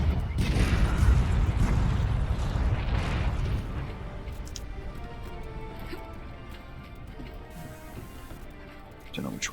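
A cannon in Monster Hunter World fires cannonballs in the Coral Highlands, giving loud, low booming bursts near the start that fade into a rumbling tail, followed by quieter ambient game sound.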